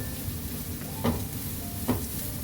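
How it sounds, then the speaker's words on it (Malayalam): Broken wheat fries in hot ghee, likely in a pressure cooker, with a steady, close sizzle. Two brief scraping stirs of a spoon against the pan stand out above it. "നെയ്യ് ഇപ്പം ചൂടായിട്ടുണ്ട്. നമുക്കിതിലോട്ട് ഈ ട്രെയിൻ ചെയ്ത് വെച്ച ഗോതമ്പ് ഇട്ട് കൊടുക്കാം."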